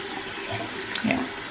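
Tap water runs steadily into a sink while a hand is rinsed under it, a soft continuous splashing wash that swells slightly near the end.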